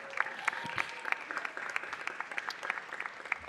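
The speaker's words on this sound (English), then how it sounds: "Let's give them another big round of applause." Applause in a city council chamber for youth council members, a modest scattering of people clapping at moderate distance, with irregular individual claps standing out over a continuous patter.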